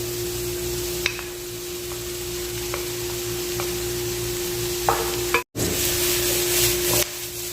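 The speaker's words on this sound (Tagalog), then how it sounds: "lagay na natin yung ating chicken at saka yung atay" Chicken and liver sizzle in a hot pan for sisig, a steady close frying hiss with a few light clicks of stirring, broken once by a brief dropout.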